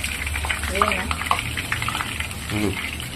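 Curry leaves and mint sizzle in hot oil for a Telugu fish curry, a close, steady frying crackle with brief splutters, while someone talks over it.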